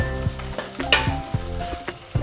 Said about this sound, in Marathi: ह्याला कांदा मिरची असं परतून घ्यायचं तेलामध्ये